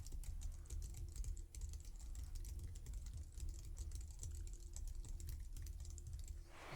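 Steady, rapid typing on an Apple computer keyboard, a continuous run of light clicky taps recorded close up with no voices.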